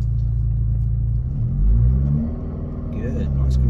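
A manual car's engine rumbles low and close, then revs up as the gas is pressed and the clutch is let out on a slope, with a brief surge and settle while a voice talks over it.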